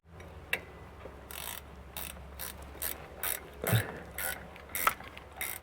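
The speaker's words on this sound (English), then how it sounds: "I'm gonna tighten that down pretty snug." A ratchet tightens a threaded bolt on a JCB 714, with quick clicking pawl strokes in short runs, up close and crisp over a low steady hum.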